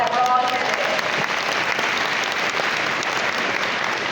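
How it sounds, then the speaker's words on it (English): Audience applause at an International Women's Day gathering, steady and dense for the full four seconds, with a faint voice over it near the start. "Can I get a big round of applause that we're all here"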